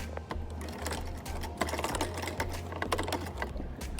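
A sewing machine stitches kurta fabric with rapid, rhythmic mechanical clatter and a low motor hum in short bursts and pauses, heard up close.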